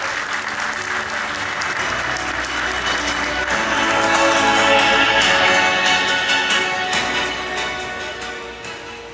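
Sustained applause from a large audience at a furniture fair gala dinner in Istanbul, steady clapping that swells in the middle and slowly fades toward the end.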